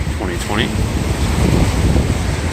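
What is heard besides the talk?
strong wind during a storm in Brooklyn, New York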